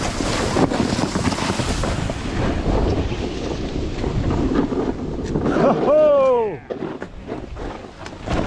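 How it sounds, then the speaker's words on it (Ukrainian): Strong gusty wind buffets the microphone on the Bukovel mountain top at a ski resort, a loud continuous roar that swells and drops, with a brief whistling tone near the end. "Сьогодні трошки вітряно, передають на поривах 22 метри в секунду."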